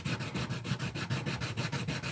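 Rhythmic back-and-forth sanding strokes on a carved wooden owl, close and steady, about five or six even rasping passes per second with no voices.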